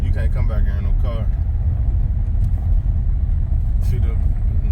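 Steady low rumble of a car at a flooded low-water crossing where a bridge should be, washed over after heavy rain, with people talking briefly over the engine noise at the start.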